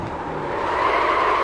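Renault Clio production car in iRacing at Daytona Road course, its front tires locking up under braking: a steady, loud engine and tire drone with a rising squealing tone, continuous and close, without talk.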